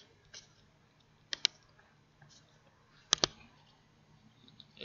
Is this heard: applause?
no